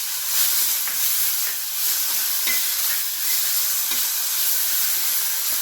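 Tomato with garlic cloves frying in a pan for misal masala, giving a steady sizzling hiss with faint stirring scrapes throughout.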